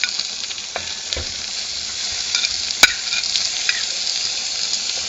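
Sausage sizzles in a pan as onions and a splash of water go in, giving a bright, steady frying hiss with a few scrapes and one sharp clink partway through, close and without talk.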